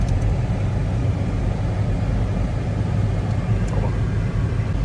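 A brand-new four-door supercar's engine roars loudly and close up at full throttle during a pull, a dense, steady, broadband drone that holds without a break.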